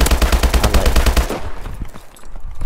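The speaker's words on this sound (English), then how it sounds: "It's a proper assault rifle. AK-12, see the AK-12" Rapid close-range automatic fire from an AK-12 assault rifle in Call of Duty: Advanced Warfare, a fast steady stream of shots for over a second, then cut off, leaving scattered softer shots and game noise.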